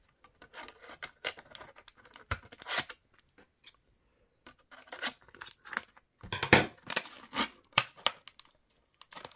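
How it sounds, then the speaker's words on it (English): Scissors snip and rasp through tape on toy action-figure packaging, quiet close-up cuts and crinkles coming in short irregular bursts with pauses between. "Oh, I've got to be really careful with some scissors and just cut it."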